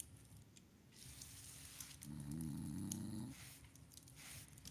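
A creature called Taminal snores faintly: a single low, rasping drawn-out breath rises in the middle and fades, set against a quiet background with no talking.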